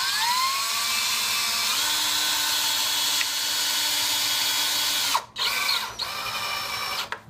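A power drill drives 2.5-inch screws into a cedar sauna bench, giving a sustained close whine that steps up in pitch, then cuts out with a couple of short bursts near the end.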